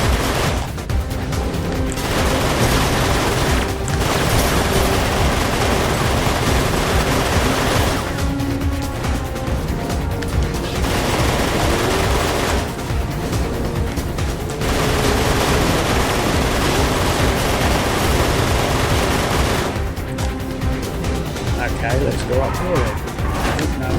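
Vehicle combat gunfire from the PS3 racing game Full Auto 2: Battlelines, dense bursts of shooting and booms over engine noise, running nearly continuously with a few short breaks while someone talks over it.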